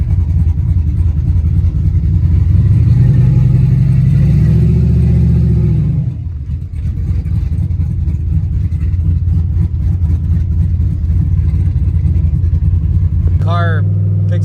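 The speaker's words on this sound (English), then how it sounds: "Car picks up boost pretty good." A turbocharged Datsun notchback with an LS engine swap pulls hard under boost, its deep engine note climbing in pitch, dropping off around six seconds, then droning on steadily from inside the car, with a brief turbo whistle or chirp near the end.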